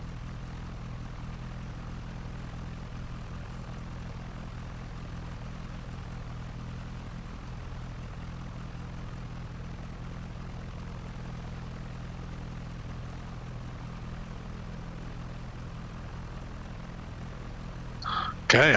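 Cessna 172 propeller engine in X-Plane 11 during takeoff, a steady low droning hum held at constant power for the whole stretch, with a brief louder knock right at the end.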